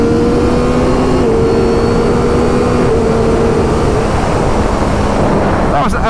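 A Triumph Street Triple 765R engine pulls hard during a wheelie, a loud steady tone mixed with heavy wind rush that fades near the end.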